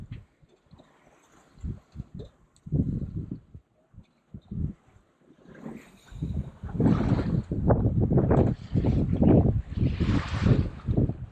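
Wind gusts buffet the microphone aboard a 28ft sailboat at sea, low rumbling bursts that swell and build in strength toward the end, with no voices.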